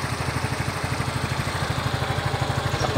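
A Yamaha Mio i 125 scooter engine idles smoothly after a rocker arm replacement, a close, steady low putter with even rapid pulses and no talking.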